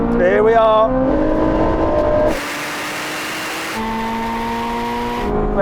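Chevrolet Corvette Z06 and Ford GT in a rolling drag race, engines revving hard with rising pitch through the gears, a loud rushing break at a shift, then pulling strongly again; close and loud throughout.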